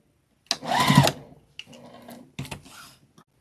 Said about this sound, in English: You're going to back stitch.